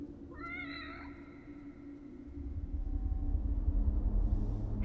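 A cat meows in the horror video game The Evil Within, a short rising-and-falling meow near the start over a steady ambient hum, followed by a louder low rumble building through the rest.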